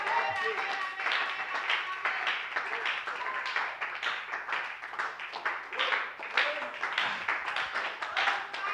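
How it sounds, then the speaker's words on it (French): A church congregation claps in praise, a dense, continuous patter of many hands with cheering and voices mixed in, moderately loud and sustained throughout. "Une main d'acclamation au Seigneur."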